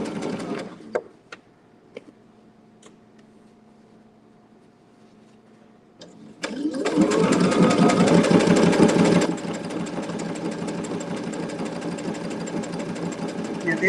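A sewing machine freehand-stitches down the raw edge of a fabric applique; a few faint clicks and taps in quiet give way to a loud, fast, steady mechanical whirring run that continues to the end.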